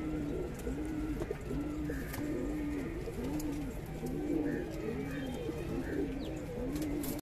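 High flyer pigeons cooing in a loft in Andheri West, Mumbai, repeated soft rolling coos in a steady rhythm over a constant background hum, moderately close.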